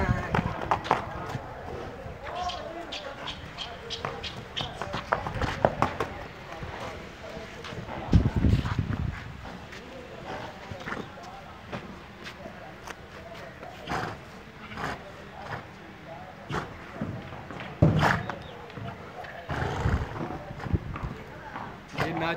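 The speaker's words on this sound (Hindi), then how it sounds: "ये जी नाचने वाला घोड़ा है" A five-year-old dancing horse at a horse market in Lahore stamps and clatters its hooves in an irregular, lively rhythm, close by, over steady crowd noise and voices.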